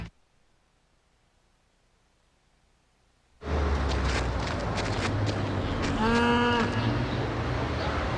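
In a Chick-fil-A television advertisement, cows moo loudly after a few seconds of near silence, with a clear drawn-out low moo rising over busy background noise and scuffling.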